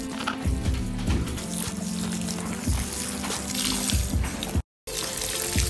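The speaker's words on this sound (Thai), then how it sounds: "ได้5ถุงแล้วค่ะปลูกเสร็จแล้วก็รดน้ำค่ะ" Water poured over newly planted tomato seedlings in bags, a steady splashing stream soaking into soil, close and continuous with a brief dropout near the end.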